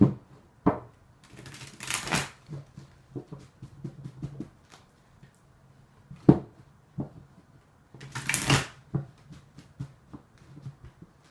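Tarot cards being shuffled close by: two crisp riffling bursts between quieter tapping, sliding and handling sounds, with no voices.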